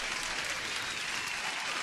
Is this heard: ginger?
no